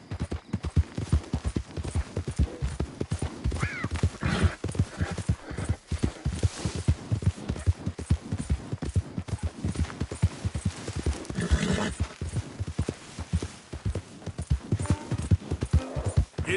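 Horse hooves galloping in Red Dead Redemption 2, a dense, fast, steady clip-clop rhythm that runs loud and continuous throughout, with a brief whinny-like tone partway through.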